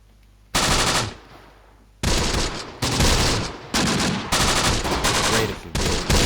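Bursts of machine-gun fire in the World War II game Close Combat: The Bloody First come as sharp loud volleys, several separate rattling bursts with brief gaps between them.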